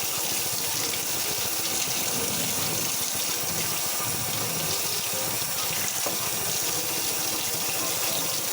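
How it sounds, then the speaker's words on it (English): Hot tap water rinses a blender strainer, a steady loud rushing splash that runs unbroken throughout. "Just some hot water to go through all them grooves."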